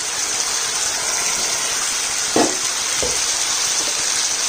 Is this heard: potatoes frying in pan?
yes